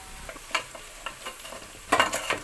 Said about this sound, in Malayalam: ഇറച്ചി ഉണക്കി വറുത്തെടുക്കുന്നുണ്ട്